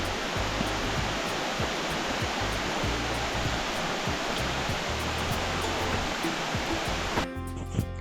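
Mountain stream on the Kudremukh trek rushing steadily, a dense broadband wash of flowing water close by that cuts off abruptly near the end.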